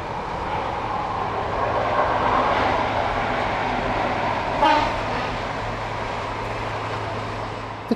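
A British Rail Class 43 InterCity 125 diesel high-speed passenger train rumbles past with a low, sustained roar, building slightly then fading, with a brief louder burst midway.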